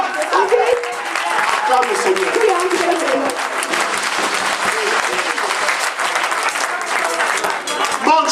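A church congregation breaks into sustained, dense applause, loud and close, with voices calling out and a speaker's voice under and over the clapping throughout.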